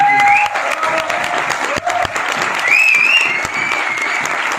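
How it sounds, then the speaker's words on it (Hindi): Audience at a Vestige success seminar breaking into loud, sustained applause, dense clapping throughout with faint whistles and voices rising within the crowd. "एक बार जोरदार तालियां"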